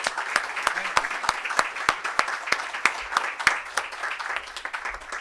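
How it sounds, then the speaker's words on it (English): Audience clapping after a physics lecture on standard model effective field theories, with sharp, loud claps from a few nearby hands standing out over a thinner backdrop of general applause and some talk. "So big round of applause for him as well."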